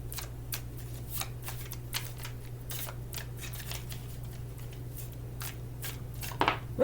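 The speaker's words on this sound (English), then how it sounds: "One more shuffle here." Tarot cards being shuffled by hand, giving a steady run of quick papery riffs and flicks over a low constant hum, with one louder shuffle burst at the end.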